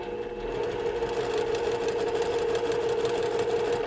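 Sewing machine running steadily while stitching a quilt block for a flying geese pattern, a close, continuous mechanical whir with rapid needle rhythm throughout.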